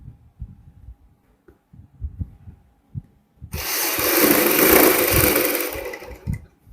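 A sewing machine stitches piping onto a boat-neck garment, its steady whirring run starting partway through and lasting about three seconds, preceded by soft thumps and handling knocks.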